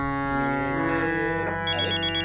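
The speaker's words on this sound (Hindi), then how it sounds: "एक अर्जेंट फोन आया" Electronic ringtone chirping from a phone with an urgent incoming call, a short bright repeating pattern of four or five quick pulses that cuts in over a sustained musical drone in a teaching room.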